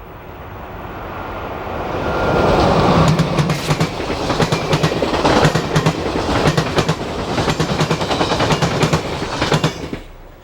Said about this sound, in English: Westbound Amtrak Metroliner train 113 rolls by the tower.